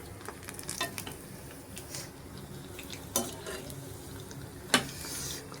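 Four onion vadas fry in hot oil, a steady bubbling sizzle heard up close, broken by a few sharp clinks and scrapes of a utensil against the pan.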